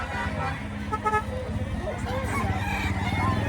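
A gamefowl bullstag rooster, a sweater white leg crossed with Boston, crows nearby in a drawn-out call, heard under ongoing conversation and background chatter.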